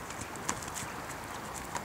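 Horses' hooves clip-clop during a riding lesson in an arena, with soft, irregular steps at a moderate distance and a couple of sharper footfalls.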